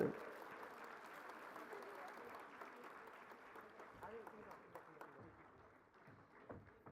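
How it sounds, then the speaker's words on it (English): Audience applauding the launch of a journal at an energy conference closing ceremony, faint steady clapping with voices murmuring underneath. "let's have a huge round of applause for the launch of this journal"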